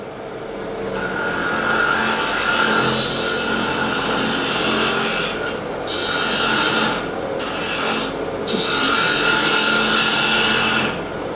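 Steady scraping rasp of a scraper cutting a spinning wooden bowl on a lathe, a continuous broadband hiss with a few brief pauses and small shifts in pressure, close and fairly loud.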